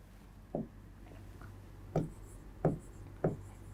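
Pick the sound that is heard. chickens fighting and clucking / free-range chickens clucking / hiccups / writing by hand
writing by hand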